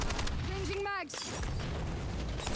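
Call of Duty: Warzone gunfire crackles continuously up close, with a brief spoken callout in the middle.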